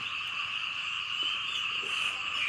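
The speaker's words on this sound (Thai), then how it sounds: "กบไม้ครับ" A steady chorus of frogs croaking in a trap setting forms a continuous, fairly loud high trilling drone with no pauses.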